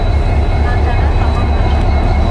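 A passenger train travelling across India gives a steady, loud interior rumble with low-end roar and faint rattling, continuous throughout without clear clacks.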